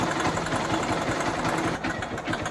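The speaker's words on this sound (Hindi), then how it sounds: "देखिए इसके अंदर से कट की आवाज़ आ रही है।" A Honda Shine motorcycle engine with an internal fault idles close by, its steady running sound carrying a fast, rhythmic knocking tick throughout.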